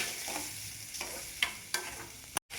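Sliced onions with asafoetida frying in hot oil, a low steady sizzle broken by a few sharp scrapes and clicks of a spoon stirring the pan, close and fairly quiet, no voices.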